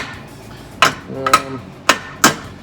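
Four sharp metallic taps of a body hammer on sheet metal for a 1970 Challenger, close and distinct, spaced irregularly with a slight ringing after each strike.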